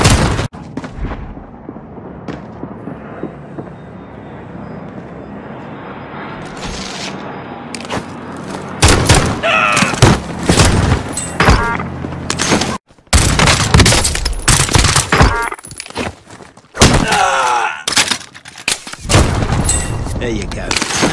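Gunfire in Call of Duty Modern Warfare Warzone, loud repeated shots and heavy bursts that build and crowd together through the second half, with short gaps and brief voices mixed in.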